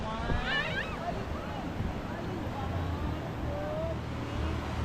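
Ocean surf at Baler rolls and hisses steadily with wind noise, while faint voices and a distant dog bark come through in the background.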